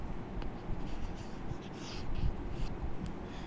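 Pen or marker strokes scratch across a writing surface in close, continuous bursts of scribbling while someone writes out math equations by hand.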